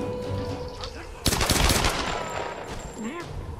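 Gunfire in the Tomb Raider video game, a dense burst of rapid shots over a steady game soundscape with tonal effects, loud and close with no talk.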